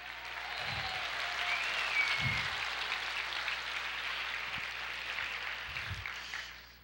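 Congregation applauding at a church service, a steady wash of distant clapping from many hands that swells and fades over several seconds, with a few low thumps beneath.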